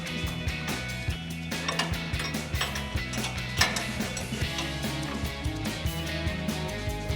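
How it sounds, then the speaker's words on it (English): A 19mm socket wrench works the bottom strut nut loose on a Toyota Tacoma, giving rapid repeated ratcheting clicks in irregular bursts alongside metallic mechanical clatter, close and fairly loud. "19mm socket, and get this nut removed."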